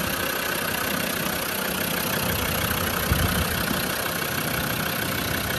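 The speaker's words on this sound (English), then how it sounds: "There we are, late TD5 engine, just doing what it should." A 2006 Land Rover Defender 110 with a TD5 diesel engine idles steadily and smoothly, recorded close under the bonnet, with a constant low rumble and even clatter and no voices.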